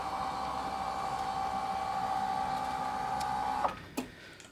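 An electric hospital bed motor hums steadily at a constant pitch, then stops with a click, followed by a brief mechanical clunk.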